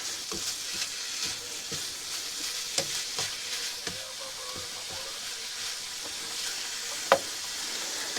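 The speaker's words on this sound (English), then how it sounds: "I might even toss in some more butter soon, but I've just got to brown this meat off." Minced beef browns in a frying pan with butter and onion, giving off a steady close sizzle with intermittent spatula scrapes and knocks against the pan and one sharper clack near the end, and no talking.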